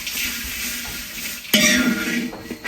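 Chilies dry-roast in a pan for black chili paste, a soft hissing sizzle with scraping stirs, then a louder clattering scrape and sizzle about halfway through.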